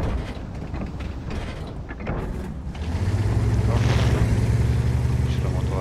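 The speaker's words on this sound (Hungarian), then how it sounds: "És a motor hangjai vannak néha." Vehicle engine in a video game, a low steady hum swelling in and holding loud for the last few seconds after a stretch of wind-like noise and clatter.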